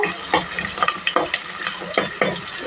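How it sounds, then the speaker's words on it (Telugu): Puffed rice being stir-fried in a pan over medium-high flame for uggani, with a steady close sizzle broken by repeated scraping stirs, no talking. "కొద్దిగా ఫ్లేమ్ కొద్దిగా హైలో ఉంచుకొని వీటిని ఫ్రై చేసుకున్నాము"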